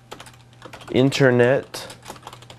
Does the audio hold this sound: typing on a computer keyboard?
yes